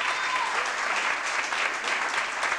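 An audience applauds tango dancers at an Argentine tango gala, dense, steady clapping from a full crowd that continues unbroken and fairly loud throughout.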